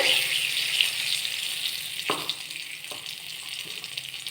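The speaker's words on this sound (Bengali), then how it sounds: "কড়াইয়ে তেল গরম করে আমি এতে একটি তেজপাতা দিয়ে দেব।" Hot oil sizzles steadily in a wok as a bay leaf goes in, with a broad continuous frying hiss and a few soft clicks and knocks of cooking in a home kitchen.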